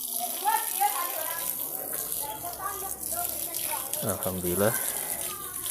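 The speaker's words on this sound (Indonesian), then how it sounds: "tinggal kita siram dulu nih." Water splashes steadily over garden plants in planter bags in a home garden at dusk, with someone talking over the continuous spray.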